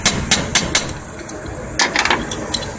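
Metal hammer striking a lock cylinder to re-stake its core, a sharp burst of four quick taps followed by a pause and then several lighter, irregular knocks, close and loud.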